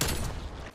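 Single bolt-action sniper rifle shot in a Call of Duty–style shooter on Nuketown, a short heavy report that fades quickly within a second.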